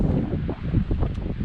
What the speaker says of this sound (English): Blue skies all the way around, and some wind